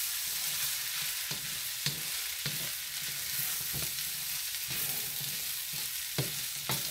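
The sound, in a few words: chicken fried rice sizzling with soy sauce in pan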